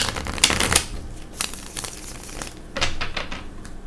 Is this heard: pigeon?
no